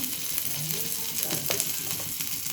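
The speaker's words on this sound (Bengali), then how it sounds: "এবার ওই তেলের মধ্যেই আমি প্রথমে দেব এই যে রসুন কুচো, মানে রসুন থেতলানোটা, তারপর দেব লঙ্কা" Crushed garlic and chopped chilli frying in hot oil, where pieces of soya chunk have just been fried, give a steady close sizzle with a few crackling spits and no talk.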